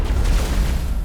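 A rocket blast in the Mass Effect 1 Legendary Edition shooter, a loud, continuous low-heavy boom that rumbles without a break for about a second.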